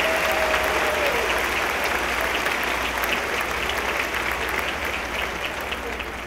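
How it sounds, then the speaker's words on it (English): A large commencement crowd gives the Wallace State Concert Choir sustained applause, thick and continuous clapping that fills the hall at a steady level and fades only slightly toward the end. "Let's give that Wallace State Concert Choir one more round of applause."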